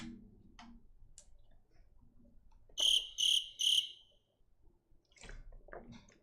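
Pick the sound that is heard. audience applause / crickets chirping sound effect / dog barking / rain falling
crickets chirping sound effect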